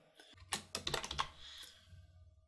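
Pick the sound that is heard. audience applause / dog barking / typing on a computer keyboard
typing on a computer keyboard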